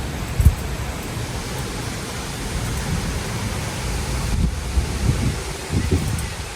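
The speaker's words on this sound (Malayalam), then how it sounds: "നല്ല കാറ്റൊക്കെ ഉണ്ട്." Steady outdoor wind blows on a mild, sunny day in Germany, a broad rushing hiss that buffets the microphone with low rumbling gusts and a few brief thumps throughout.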